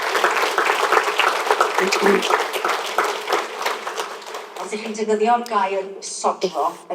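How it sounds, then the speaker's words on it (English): A conference audience breaks into steady applause for several seconds, and a voice starts speaking as the clapping fades. "I think that deserves a round of applause"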